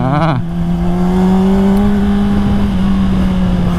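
A 2022 Honda CBR 600RR motorcycle with a factory quick shifter roars loudly and steadily, its engine pitch stepping through a quick gear change early on and then holding a sustained drone.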